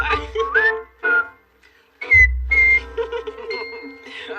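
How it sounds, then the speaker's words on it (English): A person whistles a bouncy, march-like tune in short phrases, close and clear, with brief pauses between bursts and some low rumbling. "That's marching whistling"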